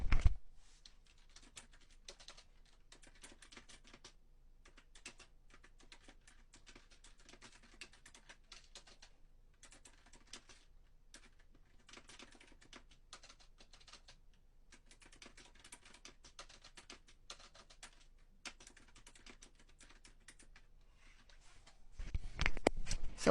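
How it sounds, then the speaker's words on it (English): Someone types a ChatGPT prompt on a computer keyboard: soft, quick keystroke clicks in irregular bursts with short pauses, faint and close, ending in a louder rush of noise. "So let me type that in now."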